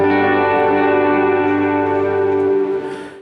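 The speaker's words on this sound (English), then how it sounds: "So you're hearing more of the reverb than the guitar." A sustained electric guitar chord drenched in reverb, the wet echo trail dominating and slowly washing out as it fades near the end.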